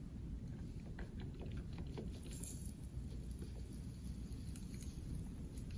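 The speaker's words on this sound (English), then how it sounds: "I am going to take some sand and I'm going to fill up this graduated cylinder" Sand pours into a graduated cylinder in a continuous soft, gritty patter, faint and steady throughout with no talking.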